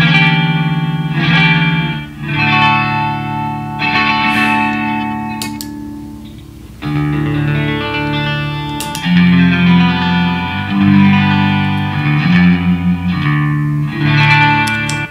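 Electric guitar through the drive echo effect of a Zoom MS-50G multi-effects pedal: loud, gritty chords and notes with trailing repeats and wash, played in phrases with short gaps.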